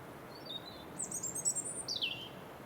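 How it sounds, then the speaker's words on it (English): Thin, high robin song drifts from a short distance in beech woodland: a few sweet, warbling phrases with falling trills against a quiet background. "Plenty of robins around today, as you can hear."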